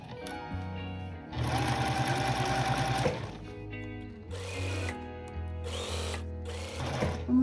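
A sewing machine stitches a concealed zipper with a normal straight stitch, running in several loud bursts of rapid mechanical whirring separated by short pauses, close to the microphone.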